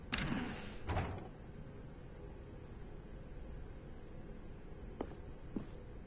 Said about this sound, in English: Stanley walked through the red door.